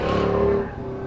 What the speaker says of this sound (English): The S10 with an LS swap